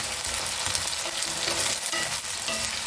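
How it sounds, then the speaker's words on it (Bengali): Potatoes, three large ones cut for a Bengali cabbage ghonto, fry in a pan with a steady dense sizzle that runs close and loud throughout, with faint stirring scrapes and no voices. "আলুটাকে ভালো করে ভাজবো।"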